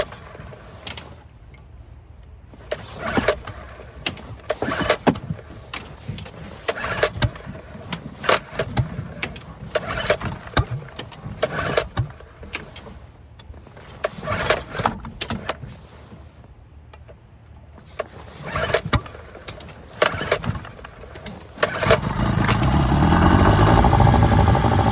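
An old skiff's outboard boat engine cranks in repeated bursts of starter grinding and sputtering, with pauses between attempts, then catches and runs at a loud steady roar near the end.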